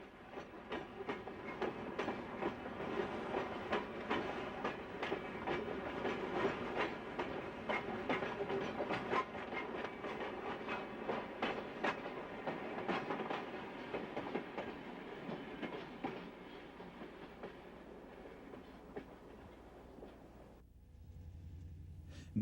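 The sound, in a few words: freight train KD-12 hauling St. Louis Car Company subway cars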